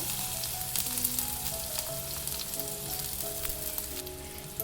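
Mustard seeds and cumin splutter and crackle in hot oil while a wheat-flour dish is being prepared, with a steady sizzle and quick popping bursts and a faint tonal hum underneath, no voices.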